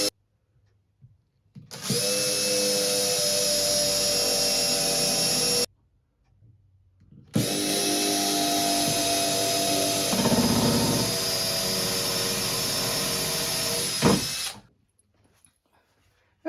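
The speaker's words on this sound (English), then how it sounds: "I'll pre-drill them first." Power drill pre-drilling holes into wooden side supports, two loud, steady high-pitched whirring runs of several seconds each, separated by a brief pause, close by and with no talking.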